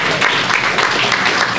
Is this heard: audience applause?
yes